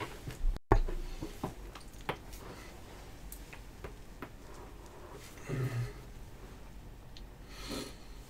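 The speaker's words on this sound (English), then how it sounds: "I didn't want you guys to hear me cracking my neck like a gross slob" A person cracks their neck close to a microphone, giving a few sharp clicks and pops with soft rustles and a brief sniff in between, otherwise quiet.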